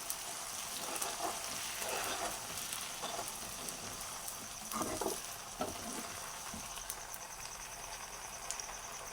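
Ginger paste frying in a pan for mutton pickle makes a faint, steady sizzle with soft stirring scrapes and occasional crackles.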